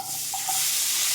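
Onions tossed into hot oil with bay leaf and spices for mutton kulambu hiss and sizzle, a close continuous frying noise that swells louder after a brief stir.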